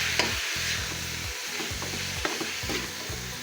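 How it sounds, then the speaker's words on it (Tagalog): Meat seasoned with salt sautés in a pan with a dense, steady sizzle, broken by repeated scraping strokes of a spatula stirring the pieces, close and fairly loud. "Gigisa lang natin ng mga 5 minutes mga idol"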